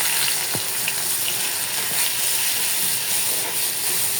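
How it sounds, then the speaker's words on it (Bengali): Sliced onions go into hot oil in a pan just after fish has been fried there, for a bhuna, giving a loud, steady, close hiss and crackle that runs without a break and without talk. "এখন পেঁয়াজ দিয়ে দিলাম।"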